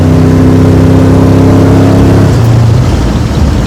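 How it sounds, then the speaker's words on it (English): A 1973 Dodge Dart Swinger accelerates hard in first gear, its loud engine note rising steadily close to the microphone, then the pitch drops sharply as the throttle eases after a couple of seconds. "she pulls hard in first gear"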